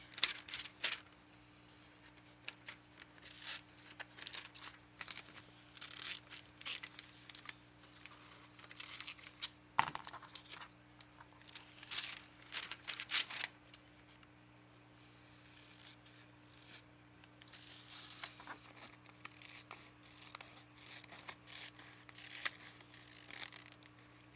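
Scissors cutting magazine paper for a collage, giving scattered soft snips, rustles and crinkles throughout with small clicks and handling noises, fairly quiet and close with no talk.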